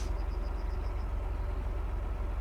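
Tractor engine idling steadily in Farming Simulator, a low, even rumble with a faint whine, with no talk over it.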